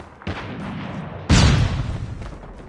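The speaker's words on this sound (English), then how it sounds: "Flashbang!" A flashbang grenade goes off in Call of Duty: a sudden loud, close blast with a lingering noisy tail, following an earlier lighter thump.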